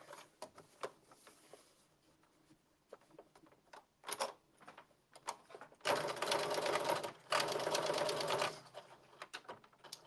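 A sewing machine runs two close, loud bursts of steady stitching along a 5/8-inch seam on a blazer, preceded by scattered clicks and handling sounds of the fabric and machine.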